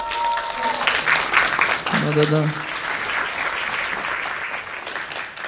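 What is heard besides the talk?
audience applause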